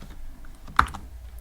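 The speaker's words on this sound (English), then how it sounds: "And I'm going to type canvas dot pack." Computer keyboard typing of code, a short close burst with one sharp keystroke standing out over a low, quiet background.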